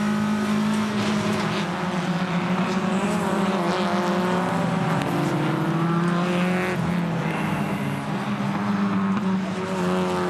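Hyundai Excel race cars circle the Townsville circuit, engines droning loudly and steadily with layered, shifting pitches as several cars run together, a continuous close roar without talk.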